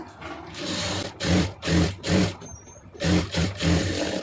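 A sewing machine puts a folded stitch along a garment armhole in short, rhythmic whirring bursts, about seven runs separated by brief pauses, close and fairly loud with no talking.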